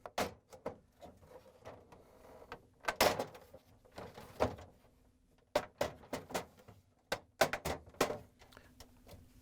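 Scattered plastic clicks, bumps and snaps close up, with a few sharper knocks as a Samsung refrigerator water tank door is pressed into place on its cover, separated by quiet gaps.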